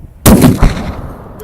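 A single loud sniper rifle shot on a Bulgarian range cracks sharply, then rolls into a long fading echo, with no voices over it.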